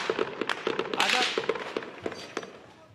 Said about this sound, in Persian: مراسم با شلیک های پی هم به هم زده شد.